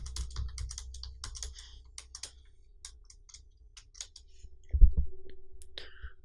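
Keys clatter on a computer keyboard in quick irregular bursts, light and close, with a few louder thumps near the end and no speech.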